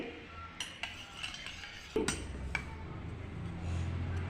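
A metal spoon clinks against a container while scooping rice bran oil, several light scattered taps and one sharper knock midway, close by in a quiet kitchen.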